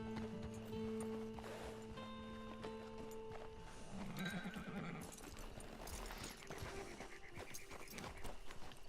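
A horse in the Red Dead Online video game whinnies and its hooves clip-clop over a dense, layered game soundscape of music and ambient noise, with a louder burst of activity midway through.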